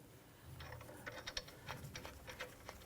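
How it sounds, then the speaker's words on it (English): A hand ratchet snugs a nut on a sway bar end link of a Jeep Grand Cherokee front suspension, giving a run of quick clicking pawl strokes in uneven bursts, close but fairly quiet, with no voices. "Go ahead and snug that nut down."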